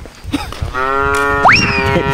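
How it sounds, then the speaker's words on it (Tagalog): A loud, drawn-out moo from a water buffalo on Mt. Lammin, rising in pitch partway through, with faint windy outdoor background noise. "Ito yung aming kalabaw."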